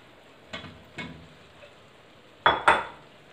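Moongre and potatoes go into a metal pan, with a few spaced clinks and scrapes of a spoon against the pan, two soft knocks and then two sharper, louder ones close by, with no talking.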